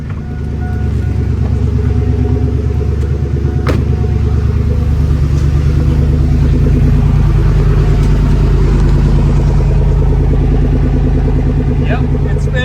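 A 1999–2006 GMC Yukon Denali truck engine, freshly swapped from automatic to manual, runs and revs loudly and continuously up close in first gear, a droning mid-range rumble with a voice talking briefly over it.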